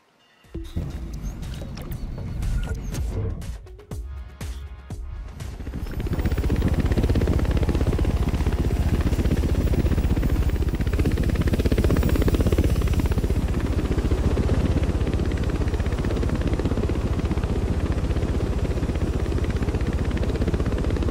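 Helicopter in the racing game The Crew 2: a few seconds of rattling, clattering engine noise give way to a steady, loud, dense rotor-and-turbine roar that holds evenly to the end, with no voices.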